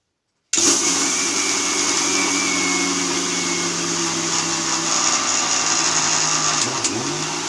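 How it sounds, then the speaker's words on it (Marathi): A mixer grinder grinds sesame seeds and jaggery, starting abruptly and then running as a loud, steady, close whirring drone with no talk. "ह्याला ना हावरीला बारीक करून घेणार आहे आणि गुळला पण बारीक करून घेणार आहे"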